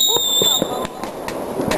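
Roman candle fireworks firing off in a string of sharp, repeated pops and crackles at an outdoor display, with people talking over them.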